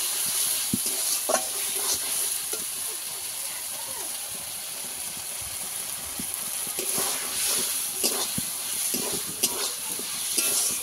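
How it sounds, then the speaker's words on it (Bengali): Egg curry ingredients sauté together in a pan with a steady sizzling hiss, broken by repeated scraping and stirring knocks from a spatula up close. "এবারে সব কিছু উপকরণ একসঙ্গে ভালো করে কষিয়ে নেব যতক্ষণ না কাঁচা গন্ধ যায়"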